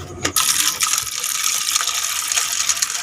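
Water gushes and pours steadily into a cooking pot, splashing close by after a brief clatter at the start.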